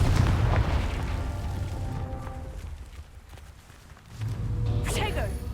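Confringo explosion spell in Hogwarts Legacy: a deep rumbling blast up front fading into debris and footsteps, then a second heavy boom with a bright magical whoosh, while a voice calls out spells.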